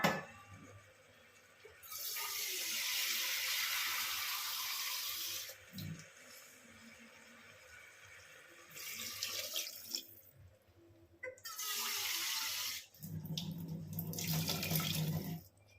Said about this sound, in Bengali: চলো এবার এতে জল দিয়ে দেবো।